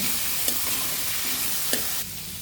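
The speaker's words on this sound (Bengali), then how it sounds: "আমরা ভালোভাবে আলুগুলো ভাজা ভাজা করে নেব" Potatoes fry in a wok with salt, a pinch of chili powder and turmeric, making a dense, close, continuous sizzle broken by two light spatula knocks.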